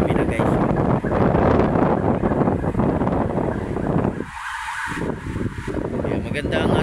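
Strong wind gusts buffet the microphone along Manila Bay, a loud rumbling roar that drops briefly near the end while someone talks over it.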